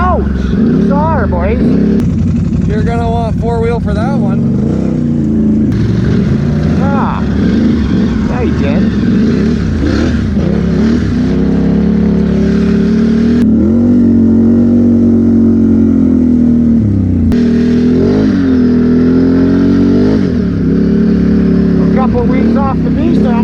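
A motorcycle ridden hard over rough off-road terrain, its engine droning loud and close throughout with shifting revs, mixed with wind and jolting rumble.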